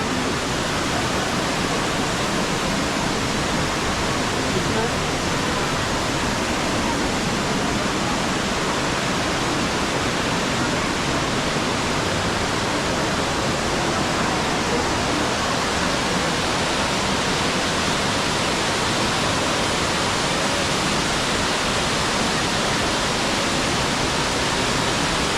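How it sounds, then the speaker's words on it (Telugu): Small waterfall at Elephant Falls in Shillong, a steady, dense rush of falling water that stays even and unbroken throughout, fairly close and with no voices. "చిన్న వాటర్ ఫాల్ ఒకటి పారుతుంది, చూద్దాం."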